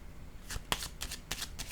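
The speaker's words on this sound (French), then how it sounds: "Je vais prendre une autre carte." Tarot cards are handled close by as another card is drawn from the deck, giving a few quick papery riffles and flicks in short bursts with no talking.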